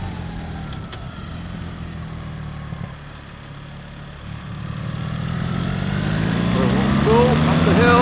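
A 2024 BMW R1300 GS Trophy motorcycle climbing a hill, its engine note droning steadily and then rising in pitch and loudness as it accelerates, with wind rush and a rider speaking over it.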